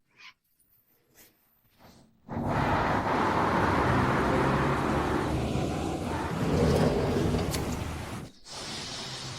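Broadband roar of a car being driven, starting after a few soft knocks, holding steady for several seconds, then briefly cutting out before resuming, with no speech.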